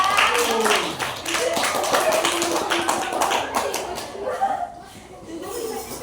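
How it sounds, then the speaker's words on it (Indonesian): Classroom applause during a primary-school maths lesson, students clapping and tapping briefly while a teacher and children talk and chuckle over it, moderately loud and fading toward the end. "Boleh tepuk tangan buat Muti ya."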